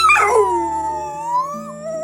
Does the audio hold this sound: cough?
no